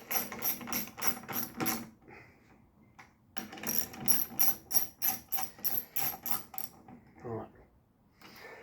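A ratchet tightens bolts on a 31 cubic inch engine in two close, steady bursts of rapid clicking separated by a short pause, with faint handling sounds between and no talk.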